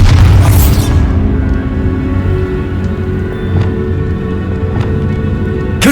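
A Bombarda spell goes off inside a tomb in Hogwarts Legacy, a loud booming blast that fades out over several seconds of rumbling debris, with a few soft knocks afterward.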